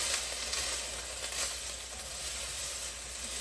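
Carrots and other vegetables for lentil soup sizzle steadily in a pot, a continuous close frying hiss with no talking.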